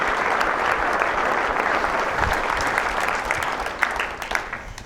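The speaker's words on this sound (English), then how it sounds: "Let's give a big round of applause for those guys." Wedding guests at Venue 5 Twenty-Two in Lincoln, Nebraska break into sustained applause for the caterers, a dense, steady wash of many hands clapping at close range, with a few sharper claps standing out near the end.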